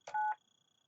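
A single telephone keypad tone beeps once while an access code is entered into a voicemail system, short and clean against near silence.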